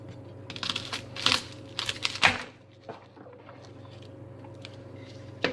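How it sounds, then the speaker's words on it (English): A knife cuts through a whole unpeeled head of garlic, giving a few sharp crunching cracks and crisp snaps up close, followed by quieter scattered clicks against a faint background hum. "we are just gonna take the whole head of garlic like this and just cut it"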